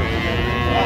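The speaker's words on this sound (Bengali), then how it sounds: "আমরা দেখছিলাম এখানে বেশ সুন্দর গাভী বাছুর।" Dairy cows and calves at a livestock market in Raniganj, Dinajpur, with a steady low lowing drone and the hum of the crowded market all through one continuous second, no talk.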